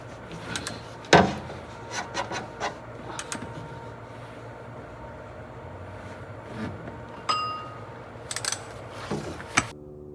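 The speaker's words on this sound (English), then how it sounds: "So now I'm going to torque up the filter with 20 foot-pounds." An oil filter being tightened to 20 foot-pounds on a C8 Corvette Stingray during an oil change: close scattered metallic clicks, scraping and rubbing, with a sharp knock near the start and a few clattering bursts toward the end, no voices.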